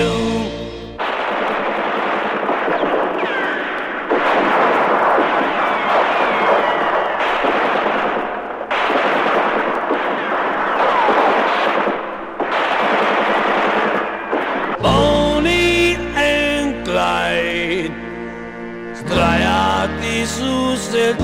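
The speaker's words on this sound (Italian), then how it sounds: "Sparano ma i mitra sono tanti, i 400 colpi sono ancora di più." Machine guns fire in long rattling bursts, loud and dense with brief gaps, in a staged Bonnie and Clyde ambush scene, followed by a musical passage.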